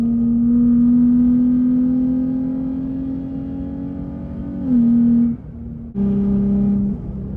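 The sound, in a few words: loud sports car exhaust revving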